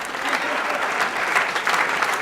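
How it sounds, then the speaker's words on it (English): Steady, dense audience applause fills a chamber of commerce awards evening, even in level throughout with no pause. "A big round of applause to Tony Maroulis"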